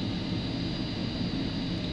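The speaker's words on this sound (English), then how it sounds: "if you listen closely, you'll hear the printer starting up. It sounds a little bit like an aircraft carrier or an airplane starting up" Startup whir of an Epson 9800 Pro large-format printer, a steady broadband rumbling hum with a faint high tone, resembling a distant jet engine, constant throughout with no talk.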